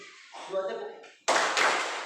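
After a teacher's brief spoken instruction, a classroom of students claps two times together, two loud, close unison claps that ring on at the end.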